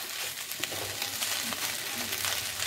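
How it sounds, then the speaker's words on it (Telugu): Pasta mixed with egg in a hot pan, a soft continuous sizzle with faint scraping stirs, steady and close, no talking. "దానికి బాగా పాస్తాకి ఎగ్ పట్టుకునేలాగా కలుపుతూ ఉండాలి"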